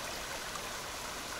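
A small stream near the Cascade du Dard waterfall in Chamonix makes a faint, steady trickle and rush of water that fills the short stretch, with no voices.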